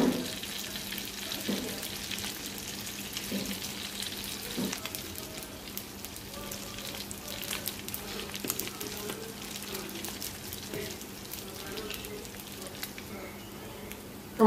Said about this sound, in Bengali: তো মাছটা উল্টে পাল্টে ভালো করে কড়া করে ভেজে নিব।